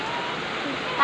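Heavy rain pours down in Quezon City, a dense, steady rushing hiss that is loud and close throughout the brief second of sound.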